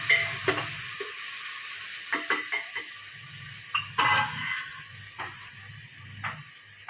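A spoon scrapes through onion, cabbage and tomato tempering for vegetable khichdi in a pan, with a series of irregular, close stirring strokes over a constant soft sizzle.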